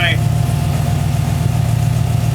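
1940 Ford Tudor Deluxe engine idling with a steady, rumbling mid-pitched drone, close and continuous, its idle speed rising slightly.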